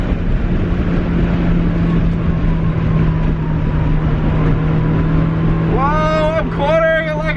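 Car engine held at a steady loud drone while cornering at speed, with a worn clutch and tires, then a sharp squeal of rising tones near the end as the car turns hard.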